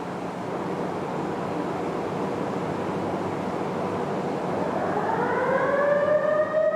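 A steel mill warning siren winds up late under a steady industrial rumble as something big and hot is moved, its rising tone sliding higher and growing louder toward the end.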